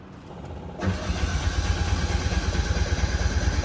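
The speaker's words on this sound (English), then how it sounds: "It's definitely got a good crank." A Honda N600 engine cranking on the starter, faint at first and then a loud, steady rhythmic churning that carries on without catching, heard close up with no one talking.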